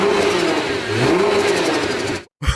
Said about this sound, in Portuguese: Dá uma aceleradinha.